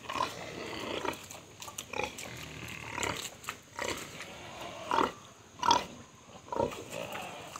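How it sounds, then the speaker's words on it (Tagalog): Hungry pigs grunting and squealing at feeding time in short, irregular bursts, some sharp squeals standing out close by, with scattered snorts between them. "Ganyan lang po pagpapakain ko ng baboy"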